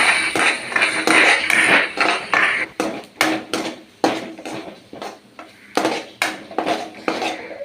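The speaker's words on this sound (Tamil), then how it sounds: "இப்போது தனித்தனியாக பிரிஞ்சு வர அளவுக்கு கிளறி விட்டுக்கிட்டே இருக்கணும்." Egg for fried rice stirred in a metal pan, a loud close run of scraping and clanking strokes, fast and dense at first, then separate rhythmic knocks.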